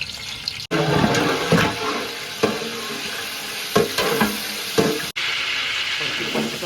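Cinnamon, cloves and cardamom fry in sunflower oil in a copper pot, giving a loud hiss and sizzle with splashy stirring bursts and a few abrupt cuts in the sound.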